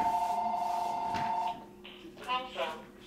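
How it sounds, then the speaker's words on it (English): Telephone ringing with a steady electronic tone for about a second and a half, then a short warbling trill, heard indoors at moderate level while people talk nearby. "Phone's ringing, dude."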